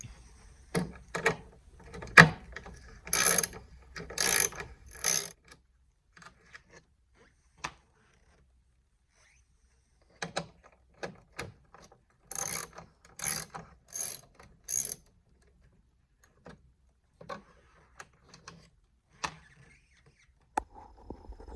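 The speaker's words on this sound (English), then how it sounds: "first I'm going to take these two screws out, and this is a 9/32" A 9/32 socket ratchet backing out tail light housing screws on a Chevy Cobalt: quick close clicking ratchet runs in two clusters with sparse single clicks between and near-silent gaps, no talking.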